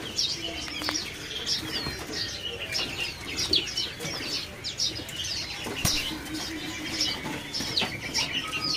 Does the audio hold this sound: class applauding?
no